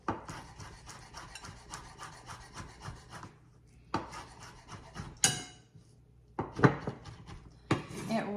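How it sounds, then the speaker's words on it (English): Fresh basil chopped with a knife on a wooden board, giving quick rhythmic bursts of chops separated by short pauses, close and fairly quiet. "I'm gonna chop up some fresh basil."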